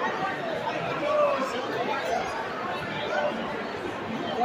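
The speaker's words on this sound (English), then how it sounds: "not sure if you can hear me over the roar of all the crowd" Dense crowd chatter on a Saturday night at the WonderCon 2024 convention, an even wash of many overlapping voices with no single talker standing out.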